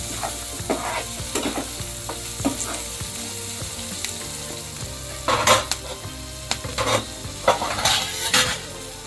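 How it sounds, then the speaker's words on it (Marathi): Green chilies roasting with onion in a pan on a low flame, a close, steady sizzle broken by repeated scraping stirs and spatula clacks against the pan, with louder bursts toward the end and no voices. "मिरच्या साधारण दोन ते तीन मिनिट मंद आचेवर त्या कांद्याबरोबर भाजून घ्यायच्या"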